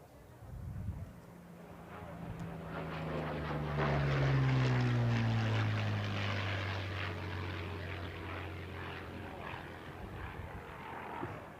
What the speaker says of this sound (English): It's a 1943 model Curtiss P-40N, built in Buffalo, New York.